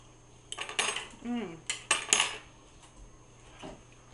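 Potatoes stirred in a pan produce a handful of metallic utensil clinks and scrapes against the cookware, close and fairly quiet, in short irregular bursts over a low background hum.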